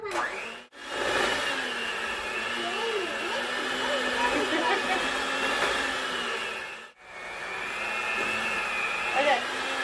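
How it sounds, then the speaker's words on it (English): An electric mixer runs steadily while mixing carrot cake cookie dough in a home kitchen, a continuous whirring drone that cuts out briefly twice, with a person's voice faintly over it. "we're not going to use the speed mixer anymore"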